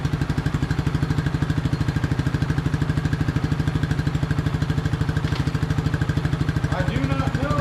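A 1999 Suzuki DR200 motorcycle engine idles nearby with a steady, rapid thumping beat that stays constant throughout, while someone talks over it.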